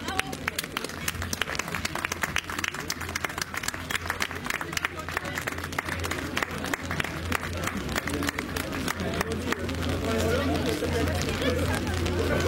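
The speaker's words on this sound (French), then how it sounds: "vous pourrez les applaudir." Crowd applauding skaters at a podium during a French roller skating road championship ceremony, with dense, steady clapping and crowd noise continuing throughout and swelling slightly toward the end.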